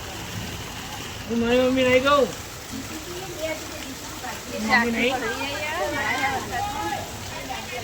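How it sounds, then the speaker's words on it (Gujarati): Steady rain hisses and patters outdoors throughout, a constant wash of falling water beneath a child and adult chatting in Gujarati over it. "જો વરસાદ આવા"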